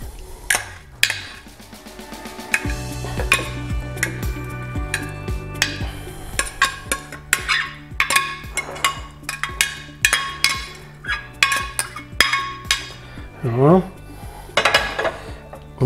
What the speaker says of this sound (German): Ich gebe jetzt hier noch mein Fleisch dazu.